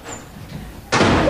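A door slams in a stage play, a sudden loud burst that comes after a quiet stretch of room noise.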